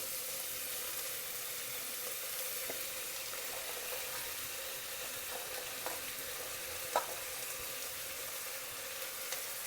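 Potatoes, carrots and beans fry in a hot tempering in a pan for rice uppittu. A soft, steady sizzle carries on throughout, broken by a few light clicks of stirring, quiet and with no talking.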